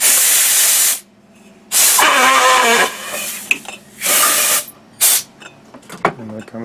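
Bursts of compressed air blow a rubber grip off a golf club, with loud hissing blasts in several separate pulses of a second or so, and a voice talking in between.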